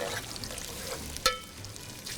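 Whole cardamom pods, cloves and black peppercorns dropped into hot oil, giving a soft, steady sizzle with one sharp clatter-and-hiss burst as the spices land, then settling back to a low fry.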